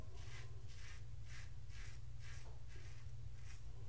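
A Merkur 34c safety razor blade cutting stubble while shaving, a series of soft, raspy scraping strokes repeating about every half second, close and faint over a low background hum.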